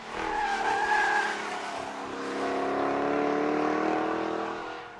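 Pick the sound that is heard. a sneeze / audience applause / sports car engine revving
sports car engine revving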